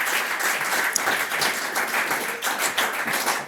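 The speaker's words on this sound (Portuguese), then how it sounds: "eu pedia uma enorme salva de palmas ao pastor Mário Rui Boto" Applause for pastor Mário Rui Boto at the start of a Hillsong Portugal podcast, steady dense clapping from a small group, close and fairly loud, running without a break and with no talk over it.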